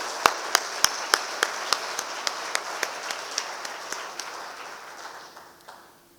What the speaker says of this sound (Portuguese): queria uma salva de palmas para todos vocês que estão aqui